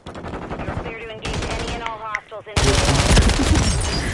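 Gunfire fills a Call of Duty match: rapid automatic bursts, dense machine-gun fire and a heavy, sustained barrage. Loud, close shots come in waves, with voices briefly heard between them.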